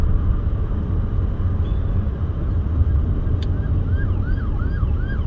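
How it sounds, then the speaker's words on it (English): A wailing siren rises and falls in the distance over a continuous low rumble of traffic, growing more distinct toward the end. "I got one, police are coming, siren."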